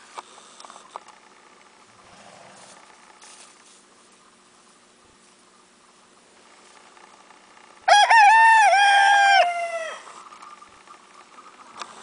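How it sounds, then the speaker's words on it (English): Silver Gray Dorking roosters give one loud, drawn-out crow near the end, with quieter scattered clucks and farmyard sounds beforehand. "these are my Dorking roosters"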